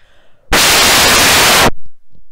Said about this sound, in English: Can you hear the hurricane? Let me open the window.